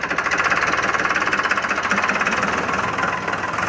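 A farm tractor's diesel engine chugs with a loud, rapid knocking pulse as it pulls away across a field, the rhythm steady and close before easing slightly at the end.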